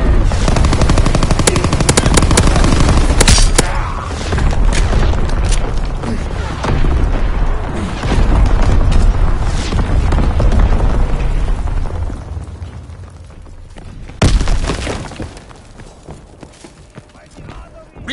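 Artillery strike in a WWII video game: dense, loud barrage of rapid gunfire and booming explosions throughout, with a heavy blast near the end, while game voices speak over the battle.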